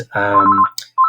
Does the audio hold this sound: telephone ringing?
yes